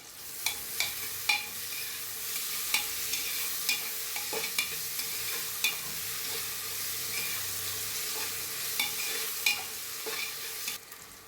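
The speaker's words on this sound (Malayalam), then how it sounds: "ഒരു പഴുത്ത തക്കാളി അരിഞ്ഞതും കൂടി ചേർത്ത് തക്കാളി വാടുന്നത് വരെ ഒന്ന് ഇളക്കി കൊടുക്കാം" Chopped ripe tomato frying in a pan while being stirred, a soft continuous sizzle broken by repeated sharp clicks and scrapes of a spoon against the pan.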